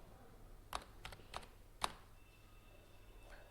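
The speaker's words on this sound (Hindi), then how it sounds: "मैं यहाँ पे लिखता हूँ प्राइम टेक हिंदी" Keys clatter on a computer keyboard as a website name is typed in, a handful of sharp separate keystrokes over a faint steady hum, with no talking.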